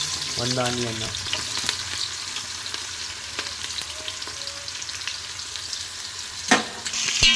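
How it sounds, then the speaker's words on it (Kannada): Onions fry for biryani with a continuous hiss in a pan, broken by intermittent stirring knocks and scrapes and a short tonal clink near the start. "ಸ್ವಲ್ಪ ಈರುಳ್ಳಿಯನ್ನು ಫ್ರೈ ಮಾಡ್ಕೊಳ್ಳಿ"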